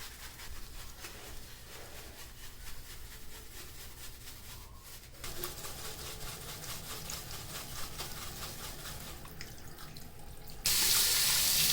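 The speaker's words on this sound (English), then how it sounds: "just put a little shampoo or a face wash and just cleanse your makeup brushes and sponges against the sieve" Makeup brushes and sponges are washed with face wash against a sieve under a running tap, water streaming steadily and close by, growing louder near the end.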